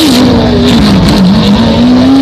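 A loud, sustained sports car engine roaring at high revs, its pitch dipping and rising steadily with no pauses, close and dominant throughout.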